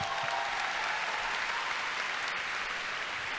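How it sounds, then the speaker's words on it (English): Steady, dense applause from a large commencement audience, a continuous wash of many hands clapping at even volume throughout with no talk. "Let's give them a round of applause."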